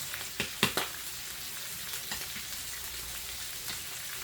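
Food being stirred in a hot pan while cooking pork chops with macaroni and cheese, a continuous hiss of frying with a few sharp scraping clicks early on, moderately close.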